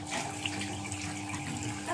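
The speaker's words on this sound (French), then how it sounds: "tu rinces avec de l'eau chaude" Warm tap water runs steadily from a faucet during rinsing, a close, continuous splashing rush that lasts the whole brief moment with no voices.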